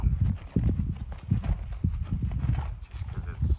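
A ridden horse's hooves clip-clop in a steady, close rhythm of dull thuds on the ground, with a voice faintly present.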